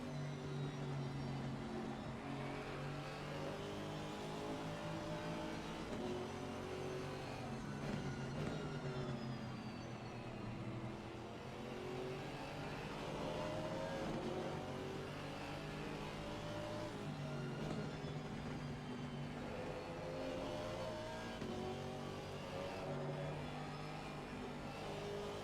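GT4 race cars overtake one another on a circuit, their engines rising and falling continuously in pitch at a distance, faint and unbroken, with no talk.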